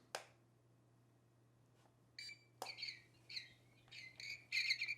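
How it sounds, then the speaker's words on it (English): A Peek-A-Bird electronic cat toy lets out a series of short, bright synthetic chirps and squawks in irregular bursts, faint and close, against a low steady hum. "when you power it up, it makes little bird sounds"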